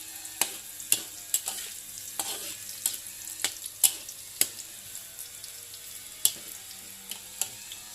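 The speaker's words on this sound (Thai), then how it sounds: "ใส่ไฟอ่อนๆเพื่อให้กระเทียมของเรานุ่ม" Garlic fries on low heat in a pan for braised pork with pickled mustard greens: a soft, quiet sizzle runs underneath while a utensil scrapes and clicks against the pan in irregular sharp taps.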